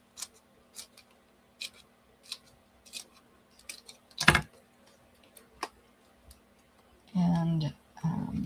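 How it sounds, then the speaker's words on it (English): Cardstock pieces for a handmade card are cut with scissors, giving a series of sharp, close snips, one louder crunch midway, and then a person starts speaking near the end. "I'm just going to cut into pieces."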